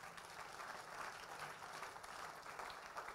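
A church congregation claps together at a prophetic conference in Accra, Ghana, a steady dense wash of hands that fills the whole moment with no voice on top.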